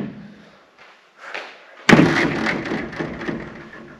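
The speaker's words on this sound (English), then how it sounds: "Nice auto door." An automatic door closes with one sharp, heavy slam about halfway through, followed by a lingering rattling decay. Faint shuffling and movement come before the impact.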